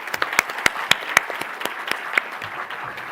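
Audience applause for an actor at a cyber bullying awareness event, a steady wash of many hands clapping with a few sharp, louder claps standing out near the front.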